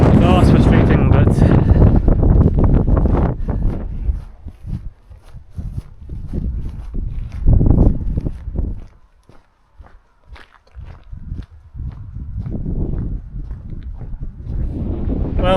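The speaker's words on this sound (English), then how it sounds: "hiding behind the boot here because it's that windy" Strong wind on a Scottish mountain walk buffets the microphone in loud, uneven gusts, with rumbling low noise dipping briefly before surging again; a voice talks intermittently underneath, sheltering behind a car boot.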